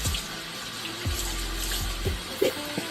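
Mineral water poured over someone for a bath, running as a steady splashing stream with a few heavier gushes, fairly close and with no talking.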